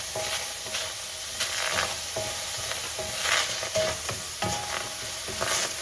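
Onion and tomato sizzle in a pan without oil for plant-based veggie burgers, a loud steady hiss broken by repeated scraping stirs.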